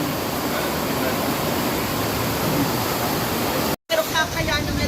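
Floodwater rushes across a farm after heavy rain, a loud, dense, steady roar of fast-moving water. The roar cuts out briefly near the end and then returns with faint voices beneath it.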